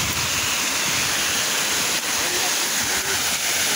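Water rushing at a small dam on a trekking route, a steady loud churning splash with wind buffeting the microphone; a dog's plunge into the water is lost in the continuous roar.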